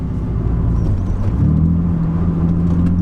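A BMW Z4 roadster driving, a steady close engine drone and road rumble with a slight rise in engine pitch partway through.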